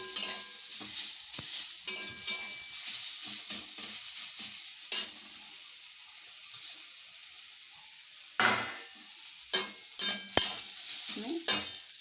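Pointed gourd (potol) frying in a pan while being stirred, a steady sizzle broken by repeated scraping and clanking strokes of a spatula against the pan, close and without talk.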